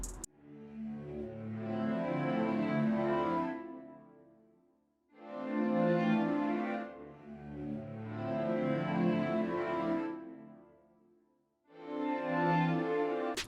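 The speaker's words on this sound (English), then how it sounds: "It's the Albion Solstice circular strings." Albion Solstice circular strings swell through a slow chord pattern in long, rich sustained waves, each chord fading in and out with short gaps between, lush and full with no voices.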